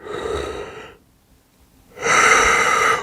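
A voice imitates a big yawn: two long, loud breathy exhalations separated by a short silence, close to the microphone.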